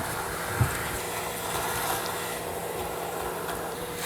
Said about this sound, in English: This goes to the vacuum cleaner.